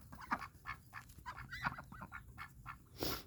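Birds honking outdoors on a snowy day in Missouri, a string of goose-like honks and squawks at irregular intervals, moderately distant and fairly faint.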